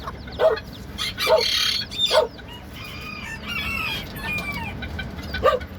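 Bantam chickens and their young chicks cluck and call close by, with several sharp squawks and chirps rising over a steady farmyard background and no talking.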